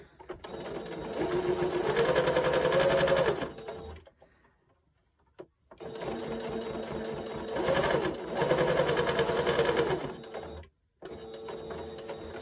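Electric sewing machine stitching a fabric pot holder runs in two steady bursts of rapid mechanical whirring, about four seconds each, separated by a short pause with a click, close and fairly quiet.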